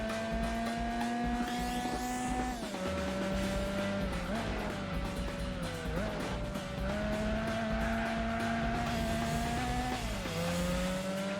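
A BMW M3 racing on nitrous in Gran Turismo 4, its engine a loud, continuous high whine that drops with each gear shift and climbs again, with faint tire noise beneath.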